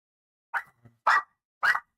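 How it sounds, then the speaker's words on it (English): A dog at home barks three times in quick succession after a knock on the door, sharp and close with short gaps between barks, against an otherwise quiet room. "Dog is going crazy because somebody just knocked on our door."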